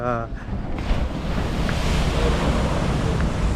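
Sea waves roar and crash continuously at Uppada beach, Kakinada, with heavy wind buffeting the microphone, and a voice is heard briefly at the start.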